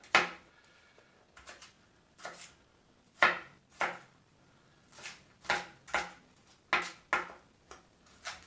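Knife chopping an onion on a board, a run of crisp separate taps in uneven clusters with short pauses between, close and clear with no talking.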